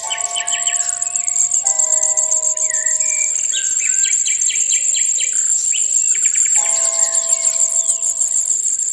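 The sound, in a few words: European robin chicks calling loudly for food in the nest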